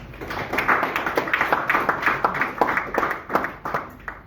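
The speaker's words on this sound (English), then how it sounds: "I'm going to say a round of applause for this honorable again" An audience applauding an honoured guest: brisk, close clapping in a fast steady rhythm lasting several seconds, with no talk over it.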